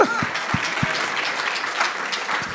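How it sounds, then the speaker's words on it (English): Applause fills a crowd at a Juneteenth Freedom Summit, steady dense clapping throughout with a few low thumps near the start, honouring students. "clap for them, absolutely"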